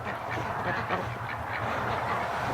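Winter ducks honk and quack in a continuous, fairly loud outdoor chorus, with overlapping calls and no talk.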